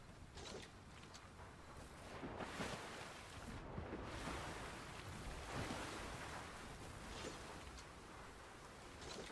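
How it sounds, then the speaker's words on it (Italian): Sea waves in the Fortnite video game: a steady, wide wash of surf with gusty swells rising and falling, continuous and moderately distant, with no voices over it. "vi ho lasciato col rumore del mare"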